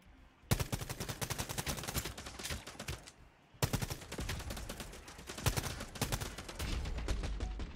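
Rapid automatic gunfire in the shooter Quantum League, dense bursts of sharp shots in two long volleys separated by a brief pause, loud and close with no talk.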